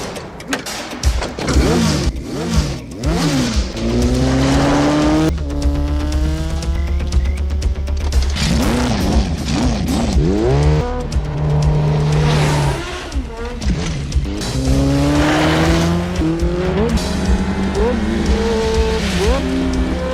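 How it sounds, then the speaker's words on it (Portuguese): A Suzuki DR-650 motorcycle chase scene in a film, dubbed with a four-cylinder engine roar: loud, continuous revving with rising and falling engine pitch and tire squeals, mixed under voices and film soundtrack throughout. "uma perseguição de 2 DR-650 com ronco de moto de 4 cilindros"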